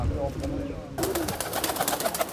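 Pigeons coo in Bukhara region, Uzbekistan, a steady low burble of several birds mixed with indistinct voices and background noise.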